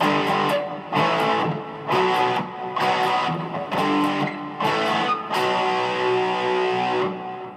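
A distorted electric guitar plays a riff, about seven power chords struck in a steady rhythm, each ringing briefly before the next, close and even in volume, with no voices.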